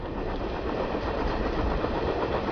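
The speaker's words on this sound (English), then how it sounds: "A train car!" A train car rolling along rails gives a steady, loud, dense rumble that holds even throughout, with no voices.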